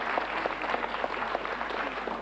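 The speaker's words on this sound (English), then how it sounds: "Round of applause." A studio audience at a TV quiz show applauds, steady dense clapping at moderate volume throughout, with no pause.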